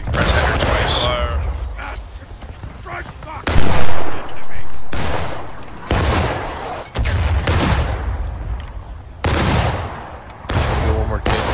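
Musket volleys in the Civil War game War of Rights, a series of loud, sharp crackling blasts spaced a second or two apart, each trailing off, with voices talking between shots.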